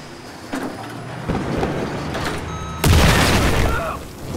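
A C4 explosive charge detonates during a Battlefield 4 Siege of Shanghai match, a heavy booming blast that lands about two-thirds through amid ongoing rumbling gunfire and battle noise, loud and close.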